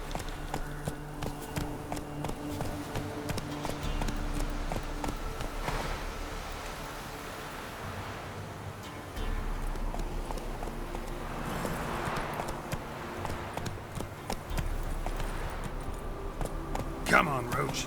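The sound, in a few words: horse Roach galloping, from The Witcher 3 video game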